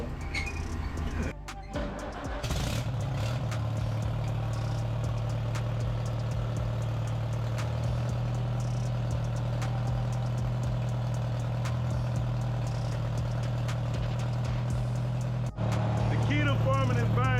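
An old tractor engine, about 50 years old, rumbles steadily after a jump start from a truck on a farm, a loud continuous idle with brief clatter at the start and a short dip near the end.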